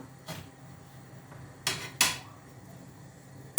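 Heavy cast iron pot tipping over in a home kitchen, a few sharp metallic clanks and clatters spaced apart over quiet background, with one final loud knock at the end.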